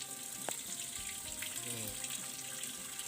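Water pouring into the drum of a repaired washing machine, a steady rushing gush with faint gurgling and a tonal whine, continuous and close at even volume.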